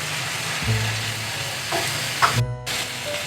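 Green onions sizzle in hot oil over a mashed tomato masala, a loud close crackle with stirring and clinks of a spoon against the pan.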